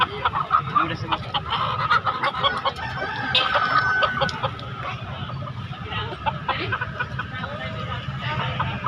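Free-range chickens cluck and a rooster crows amid a busy market din at Pasar Daya, Makassar, with people talking nearby throughout.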